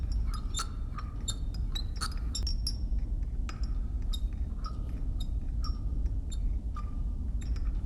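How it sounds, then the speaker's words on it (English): A teaspoon stirring in a teacup in a John Wick 4 scene, giving repeated bright clinks and scrapes of metal on china in an uneven rhythm over a steady low background hum, with no talk. "we watch the Marquis unnecessarily torture this teacup by stirring it for a really long"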